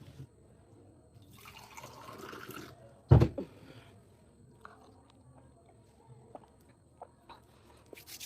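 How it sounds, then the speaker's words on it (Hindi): A woman pausing to sip water, with a soft liquid pour or slurp, then one sharp gulp or clunk near the middle followed by faint small clicks and swallowing sounds in a quiet room. "एक मिनट पानी पी लूं।"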